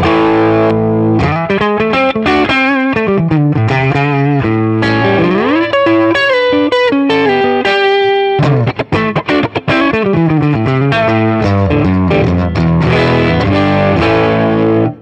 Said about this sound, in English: So it's clean, but there's a little bit of break up there that's sounding really good to my ears.